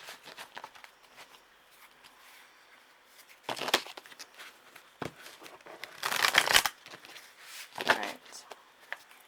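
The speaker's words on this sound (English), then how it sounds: "This is the first time I've actually shuffled on camera." Bursts of crisp, papery shuffling and riffling of tarot cards, close and fairly loud, coming in quick clusters with quieter gaps between.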